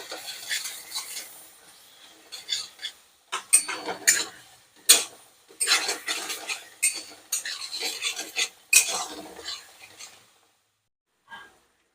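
Spices, salt and powdered coriander and fennel are sautéed in a pan for a Maharashtrian masala gravy, with bursts of spoon scraping and clatter in irregular strokes, close by, before a quiet pause.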